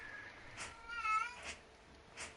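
A female cat in heat gives a long, wavering, drawn-out meow, moderately close, with a few soft thumps and clicks around it in a quiet room.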